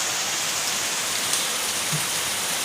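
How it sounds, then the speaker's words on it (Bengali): Steady rain falls in a dense, even hiss, a continuous wash of drops on surfaces with no voices. "অনেক অনেক ভালো লাগতেছে বৃষ্টি।"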